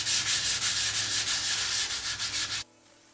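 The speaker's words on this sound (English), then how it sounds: "I sand it just to where wood is starting to show." Hand sanding of a first primer surfacing coat on wood: rapid, regular back-and-forth scratchy strokes, about four per second, loud and close, stopping abruptly near the end to near silence.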